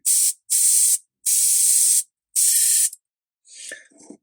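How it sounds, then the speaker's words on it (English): Four short bursts of airbrush hissing spray priming a Warhammer 40k Space Marine miniature, each about half a second to a second long, close and loud, followed by faint rattling handling noises. "Now we're going to spray him."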